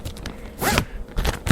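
A plastic bag's zipper pulled open and shut in quick rasping strokes, close and crisp, a few short zips followed by a longer scraping run and a final snap.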